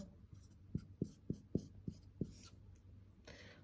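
Marker strokes on a classroom board during a math lesson: about six distinct sharp taps and scratches in an uneven rhythm, close and clear, with a faint rub near the end and no talk.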